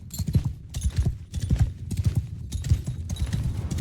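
Cavalry horses gallop across a battlefield in the video game Mount & Blade 2: Bannerlord, their dense overlapping hoofbeats clip-clopping steadily and loudly throughout, with no one talking.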